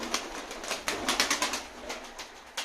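Pigeons moving inside a coop produce a string of sharp, close flutters and taps in an uneven rhythm, with faint rustling between them and no talking.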